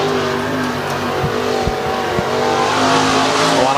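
An IMCA Modified race car, the 2020 champion's 49 car, roars loudly through turns three and four at Antioch Speedway, a steady engine drone with brief clattering bursts and a faint tire squeal.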